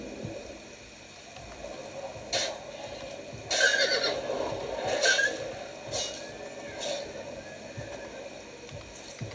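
A horse in the video game Oblivion neighs and whinnies in a few loud bursts over a low outdoor ambience with faint hoof sounds.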